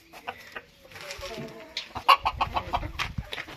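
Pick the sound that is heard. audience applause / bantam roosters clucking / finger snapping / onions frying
bantam roosters clucking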